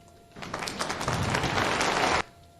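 A round of audience applause at a university convocation ceremony, a dense burst of clapping that starts abruptly, holds steady for nearly two seconds and stops sharply.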